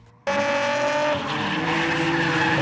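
An Alfa Romeo 75 race car with a V6 and side-exit exhaust screams past on a track, bursting in abruptly and holding a loud, high-pitched engine howl with tire noise for a few seconds.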